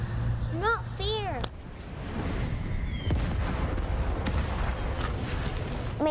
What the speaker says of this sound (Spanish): Me imaginé que eso era una explosión de verdad.